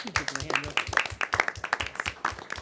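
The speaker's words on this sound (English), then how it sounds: "Giving them a hand of applause." School audience applauding National Merit semifinalists at a board meeting, a short round of scattered clapping mixed with a voice talking over it.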